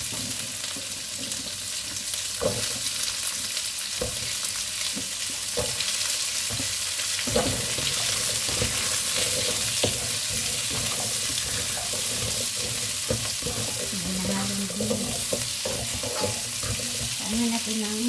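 Squash fries with onion and garlic in a pan, a continuous close sizzle broken by scraping stirs and clinks of a utensil, with faint speech now and then beneath it.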